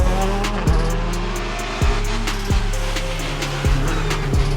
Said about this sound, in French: Les derniers passages de la Skoda, puis de la Twingo.